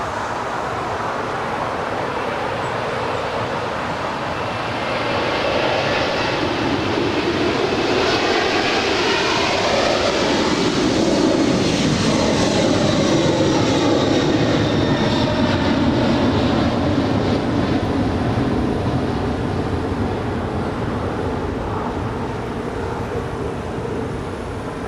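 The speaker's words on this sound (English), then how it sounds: "heavy 747 departing, caution wake turbulence" Heavy Boeing 747 jet departing at LAX, a loud sustained engine roar with broad rushing noise that swells and slowly shifts as the aircraft passes, continuous for the whole stretch.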